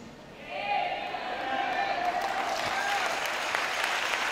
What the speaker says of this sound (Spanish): Denle ese aplauso a Jesús.